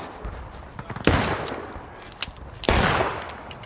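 Two sharp musket volleys crack out about a second and a half apart in the Civil War battle game War of Rights, each burst trailing off over quieter background noise.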